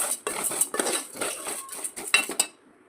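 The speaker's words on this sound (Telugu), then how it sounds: "ముందుగా స్టవ్ వెలిగించి పప్పుని ఇలా బాగా వేయించుకోవాలి" Toor dal being dry-roasted in a pan, stirred with a metal spoon that scrapes and clinks against the pan in quick, uneven strokes, close and clear, before the stirring stops.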